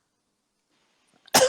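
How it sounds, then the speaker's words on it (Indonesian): A single short, sharp cough bursts out at the very end after near silence, close to the listener. "Maaf nih, batuk-batuk."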